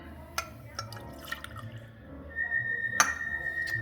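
St. George Terroir Gin poured into a cocktail measure: a faint, quiet trickle with scattered drips and small glassy clinks, close by, with no talking.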